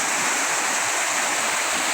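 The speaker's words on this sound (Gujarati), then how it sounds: "અહીંયા આ પાણી બધું ઉપર ઓવરફ્લો થઈને એનું શુદ્ધિકરણ અને ચોખ્ખું કરવાનું કામ આ મશીનરી કરી રહી છે" Water overflows in a tank at a Narmada water purification plant in a village, a loud, constant rushing roar like a small waterfall, close and unbroken.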